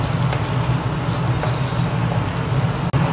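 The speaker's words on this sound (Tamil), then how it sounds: "அடுத்து இதில் பெரிய வெங்காயத்தை சேர்த்துக்கலாம்." Cumin seeds and sliced big onions fry in a hot pan, giving a steady, close broadband sizzle that holds evenly throughout, with one brief dropout near the end.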